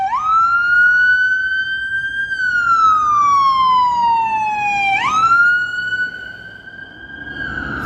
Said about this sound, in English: So many sirens tonight.